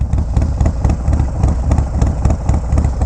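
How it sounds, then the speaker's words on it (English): A Harley-Davidson Low Rider ST with a 131 kit and a Cyclorama 483 cam idles nearby, loud and lumpy, in an uneven galloping rhythm of deep exhaust pulses. "Bike sounds amazing."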